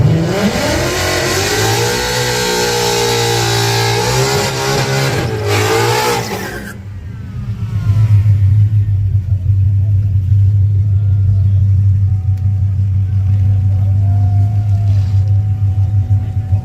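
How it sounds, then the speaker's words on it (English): A drag racing car does a burnout at the strip, its engine roaring loud and sustained with shifting revs for several seconds before dropping to a lower, steady rumble, with voices nearby. "they love doing some burnouts up here"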